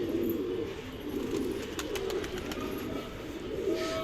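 Pigeons kept by a hobbyist coo softly in the morning, a low, fairly faint rolling coo that repeats under a steady hum of background noise, with a few light chirps and no talking.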